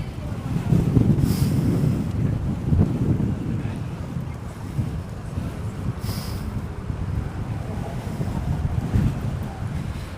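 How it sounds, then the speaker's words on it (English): Headwind roars across the microphone while cycling in San Francisco, a steady gusty rumble that surges and eases over about ten seconds. No voices cut through it. "There is no extra charge for the headwind."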